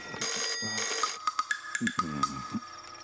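An electronic telephone ringtone trills with bright repeating tones near and clear, followed by short bursts of a voice as the call is picked up in a Kannada comedy film scene.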